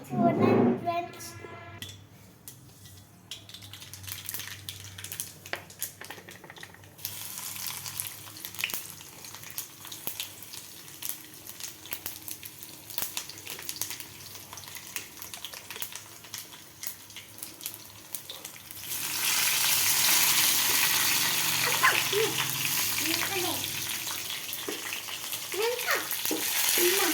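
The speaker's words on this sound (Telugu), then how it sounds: "ఇప్పుడు చట్నీకి పోపు వేయాలి" Mustard seeds, garlic, curry leaves and dried chillies fry in hot oil as a tempering for chutney. Quiet crackling at first turns into a loud, steady sizzle for the last stretch, with brief talking early on.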